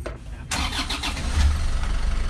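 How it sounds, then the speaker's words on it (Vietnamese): An Isuzu QKR77FE4 2-ton truck engine cranks briefly, then catches and settles into a loud, steady rumbling idle close by. "giờ nổ máy cho các bạn nghe thử nha"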